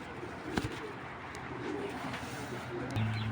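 Two pairs of pet pigeons give low, throaty coos close by, growing more insistent toward the end over a quiet hum, with a voice speaking faintly.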